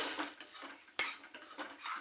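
A utensil scrapes and clinks against a metal pan in short, irregular strokes, stirring masala paste for chole masala curry, with one sharper knock midway. Nobody speaks.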